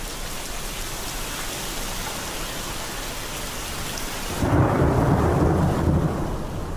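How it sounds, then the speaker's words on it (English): Steady heavy rain pours down during a storm, then a deep rumble of thunder rolls in and swells, loud and close, lingering under the downpour with no voices. "More lightning and thunder during the downpour"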